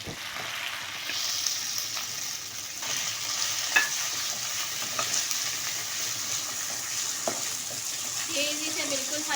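Beef steak pieces fry in hot oil with a steady, dense sizzle, stirred now and then with faint scraping clicks; a brief soft tone near the end, no talking.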